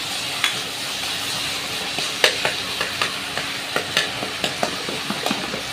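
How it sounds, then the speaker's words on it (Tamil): Tomatoes sauté in a pan for Tamil-style egg curry, with a steady sizzle and frequent light scrapes and taps from stirring. The sound is close and moderately loud, and no one speaks. "இந்த தக்காளி வதங்கினா தான் நல்லாயிருக்கும்"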